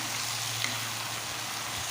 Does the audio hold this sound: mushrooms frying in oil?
yes